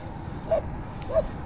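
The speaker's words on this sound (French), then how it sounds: "les bandes de chiens qui veulent faire peur en groupe" A group of stray dogs outdoors gives two short, distant yelping barks about half a second apart over low background noise.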